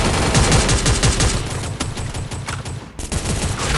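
Rapid gunfire in the Free Fire video game, dense bursts of automatic shots that continue loudly throughout, with a brief dip near the end before firing resumes.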